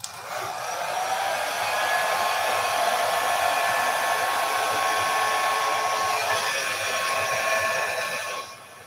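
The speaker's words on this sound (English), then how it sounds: "I don't think you'll be able to hear me if I'm talking while the blow dryer's on." A blow dryer pushes paint across a canvas during a Dutch pour painting, giving a loud, continuous whirring roar that holds steady for about eight seconds before cutting off.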